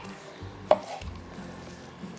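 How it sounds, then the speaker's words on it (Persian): Fresh coriander being chopped on a board for a turmeric soup, a single sharp knife strike followed by softer, duller cuts, close and clear, with no talking. "گشنیز هم ریزه کنیم"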